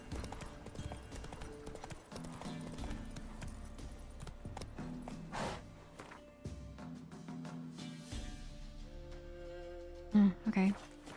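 Horse hooves clip-clop in a steady rhythm in The Witcher 3, moderately close beneath game music, with a person speaking over part of it.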